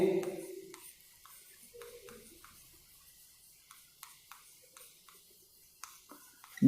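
Pen scratching on paper while notes are written in a science class, a sparse series of short strokes and taps in a quiet room, with brief speech at the start.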